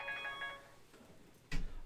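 A mobile phone rings faintly with a short electronic tone during a live-streamed Mistborn tabletop RPG session, followed by a brief burst of room noise.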